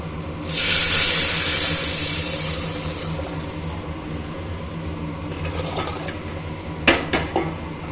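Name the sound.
rasam poured into hot oil tempering in a pan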